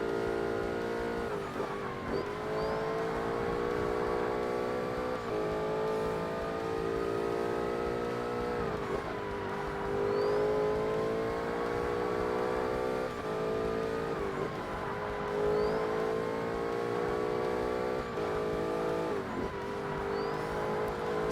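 A Professional Class R-P1 race car engine in Forza Motorsport howls steadily near and loud, its pitch dipping and climbing through gear changes and corners across twenty seconds, with no talk over it.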